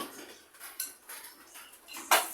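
A metal lid is set onto a cooking pot of sinigang na sugpo with eggplant. Light clinks and scrapes lead to a sharper clatter as it settles near the end.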